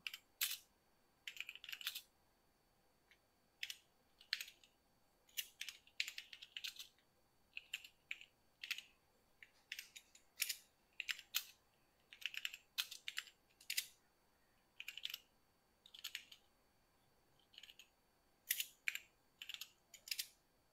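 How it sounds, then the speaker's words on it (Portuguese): Typing on the keyboard of an Omega MSX computer, quiet plasticky key clicks arriving in short irregular bursts with brief pauses, heard alone at low level. "vocês veem que o teclado já está funcionando"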